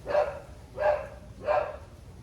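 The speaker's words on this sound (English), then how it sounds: "Please forgive our neighbor's dogs." A neighbor's dogs bark three times in a steady rhythm, each bark a short, full burst at moderate distance, with no voices over them.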